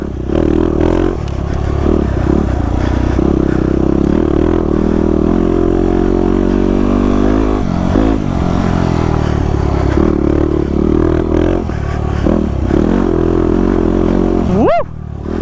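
A Yamaha WR250R dirt bike runs on trails, its engine droning loud and close throughout with shifting revs, rattling and scraping over rough ground.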